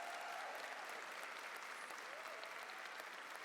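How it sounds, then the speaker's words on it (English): Steady applause from a convention audience fills the room, a dense even wash of clapping without a break, heard from a moderate distance. "Big round of applause"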